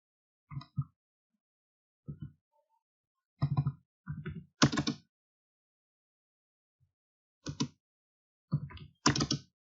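Keystrokes on a computer keyboard while entering an AutoCAD trim command, sparse clusters of crisp clicks with pauses between them, close and fairly quiet with no talk.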